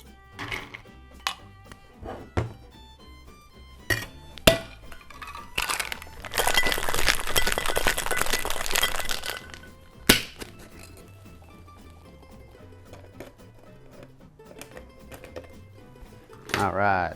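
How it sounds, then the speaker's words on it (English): Fresh ice clatters and crunches as it is poured into a stemless wine glass for a cider cocktail, a dense burst of clinking in the middle, with scattered clinks and talk before and after. "just pour it over that fresh ice"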